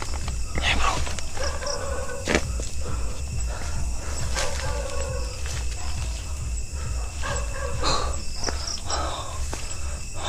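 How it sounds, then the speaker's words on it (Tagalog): Several dogs bark in scattered bursts at some distance outdoors at night, over a steady chirr of crickets, with people speaking quietly nearby. "Ba't ba ang daming aso bro?"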